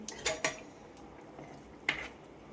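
A spoon gently stirs hot Kerala fish curry in a pot, giving a few light metallic clinks and scrapes against the pot, fairly quiet with a short pause between the first strikes and the last.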